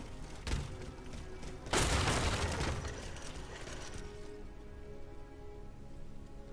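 Steady rain in the video game SteelRising, a dense hiss of drops pattering on surfaces, with a couple of louder rushing bursts early on before settling into a constant even downpour.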